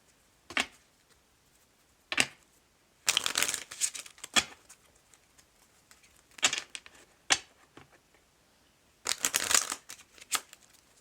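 A Focus Community tarot deck is shuffled in several quick, crisp bursts of riffling and flicking cards, close and fairly loud, separated by short pauses with no voice.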